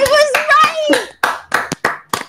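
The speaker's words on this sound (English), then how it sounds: "Why are you guys clapping for him?" A few sharp, separate claps ring out over a voice chat among Minecraft players, close and loud. They follow a stretch where someone speaks in a drawn-out, sing-song voice.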